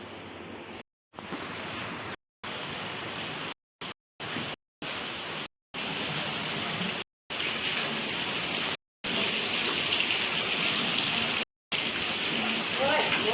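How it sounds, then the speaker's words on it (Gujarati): Steady rain falling in a village, a continuous hissing patter on surfaces, moderately loud and even, broken by several short gaps of silence. "આમાં વરસાદ ચાલુ છે."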